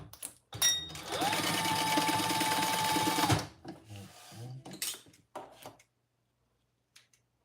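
Home sewing machine basting a magnetic snap onto a fabric pouch: a loud close motor whir runs for about three seconds, then stops, followed by scattered handling clicks and rustles and a brief voice.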